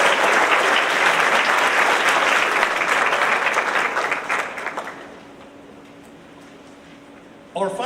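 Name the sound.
audience applause at a school awards ceremony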